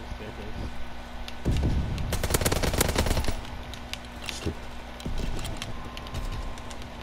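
Rapid bursts of gunfire from a fire shotgun in the World War II shooter game Call of Duty: WWII, loud clustered blasts in the middle with scattered shots around them, while players talk over the action.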